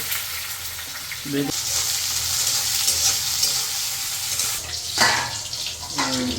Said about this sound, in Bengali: ডিম ভাজা হয়ে গেছে